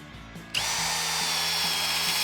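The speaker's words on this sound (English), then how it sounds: "let's go with the regular drill on low." A Milwaukee M18 FUEL Gen 3 cordless drill spins up after a brief pause and runs steadily at a low, even speed, with a constant high motor whine close to the listener.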